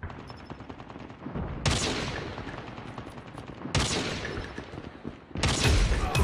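Sniper rifle shots in Call of Duty Mobile multiplayer: three sharp, loud cracks spaced a couple of seconds apart, each trailing off in a long echoing decay over a background of steady gunfire.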